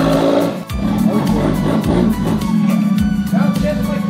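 A Humvee fitted with a 1.8 Toyota four-cylinder engine runs loud and close, a steady droning rumble with rhythmic pulses and brief revs throughout.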